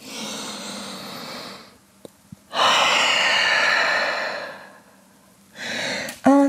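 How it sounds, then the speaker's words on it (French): Deep breaths during a downward dog yoga pose: a long exhale, a pause, then a strong drawn breath and another shorter breath, close and clear. "Grande respiration en chien tête en bas."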